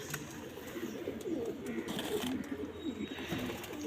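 Several pigeons coo continuously at close range in a rooftop loft, soft overlapping throaty calls forming a steady murmuring bed with a few faint higher chirps.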